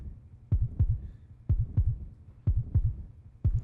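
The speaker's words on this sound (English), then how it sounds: "His heartbeat skyrocketed." Heartbeat sound effect from the visual novel Root Double: Before Crime After Days, a steady lub-dub pulse with four paired thumps repeating about once per second, low and booming, with no talk.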